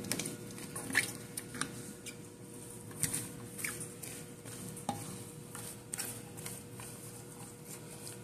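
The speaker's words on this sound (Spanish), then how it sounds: "lo que voy a hacer es mezclar esto" A spoon stirring a soy ceviche mixture with ketchup in a bowl, soft wet scrapes and light clicks at irregular intervals, faint and close, with no talking.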